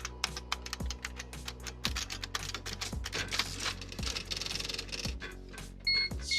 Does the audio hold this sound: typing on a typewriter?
yes